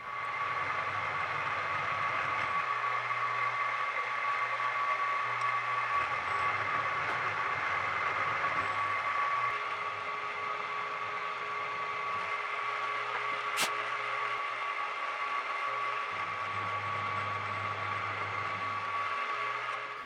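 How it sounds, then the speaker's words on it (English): Milling machine cutting slots into steel for a forge tool rest, a continuous steady machining whine with a sustained tone, its low hum shifting in pitch and level in blocks as the cut progresses, close and unaccompanied by talk. "Then I mill 2 1/4 inch slots to the center of the holes."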